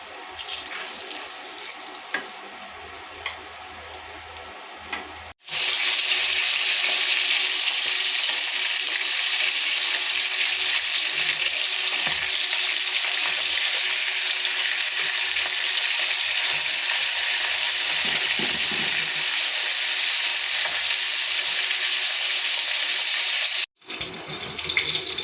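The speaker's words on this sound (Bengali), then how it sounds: "আমি কারেন্টের চুলায় ভাজতেছি" Taro pieces coated in salt and turmeric fry in hot oil on an electric stove, a loud, steady, hissing sizzle that begins abruptly after a quieter stretch and runs unbroken for nearly twenty seconds before cutting off.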